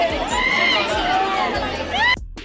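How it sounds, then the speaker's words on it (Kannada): Dense crowd of devotees at Chamundi Hill temple on New Year's Day, a loud continuous babble of many voices with shouts and rhythmic clapping or clanging that cuts off abruptly near the end. "ನೀವೇ ನೋಡಿ ಕ್ರೌಡ್ ಹೇಗಿದೆ ಅಂತ ನಾನು ನಿಮಗೆ ಕ್ಲಿಪ್ ಹಾಕ್ತೀನಿ"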